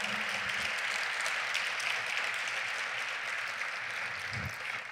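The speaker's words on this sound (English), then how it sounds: "Let's give them a round of applause." Audience at a San Bernardino school district community gathering giving a round of applause. The clapping is steady and fairly faint and distant, and a brief low voice sounds near the end.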